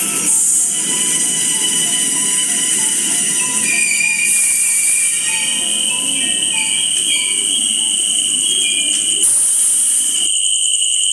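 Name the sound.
train running on rails, horror story sound effect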